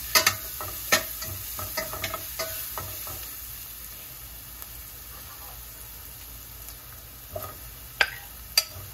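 Onions frying with a little turmeric in a pan, a quiet steady sizzle marked by clustered clinks and scrapes of stirring at the start and near the end.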